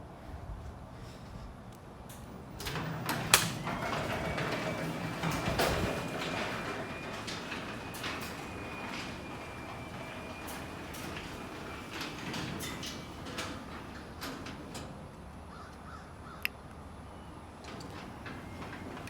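Two Chamberlain B970 belt drive garage door openers, made in 2017, close their doors with a low mechanical rumble and whirring hum, punctuated by clicks and clunks, fairly quiet and continuous.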